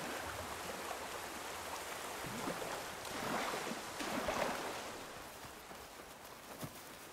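Flowing water in the open world of Horizon Forbidden West, a steady broadband wash of rushing stream or surf that swells slightly midway, heard alone without voices.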